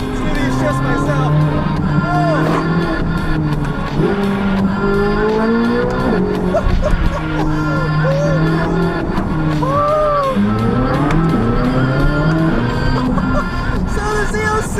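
A 2023 Chevrolet Corvette Z06 with a 5.5-liter flat-plane-crank V8 accelerates hard, its engine note rising and dropping through repeated manually triggered upshifts, loud and close, with excited voices talking over it.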